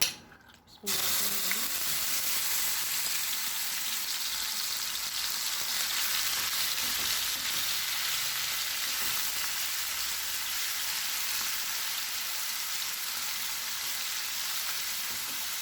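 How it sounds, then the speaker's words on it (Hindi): Chicken pieces dropped into hot cooking oil in a pan set off a sudden loud hiss, then a dense, even sizzle that holds steady and close throughout. "ऑयल गर्म हो गया, अब इसमें चिकन डाल देंगे।"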